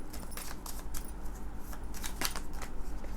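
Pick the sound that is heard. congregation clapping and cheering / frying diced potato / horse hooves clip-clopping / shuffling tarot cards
shuffling tarot cards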